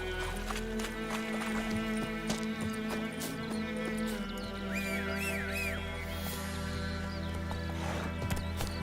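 Roach the horse gallops in The Witcher 3, a steady clip-clop of hooves running under dense game music and ambience, with a brief whinny partway through.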